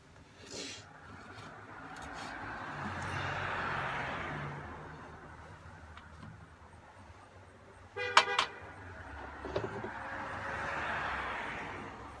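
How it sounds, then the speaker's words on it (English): Passing road traffic on a busy street outside a house, with a broad wash of engine and tire noise swelling and fading, and a couple of short car horn toots near the end. "Sorry about the traffic noise. It's really busy here in front of my house."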